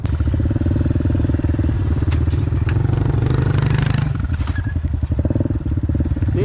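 A dirt bike engine running loud and close indoors in a dealership, a rapid rumbling idle that surges and revs through the middle before settling back.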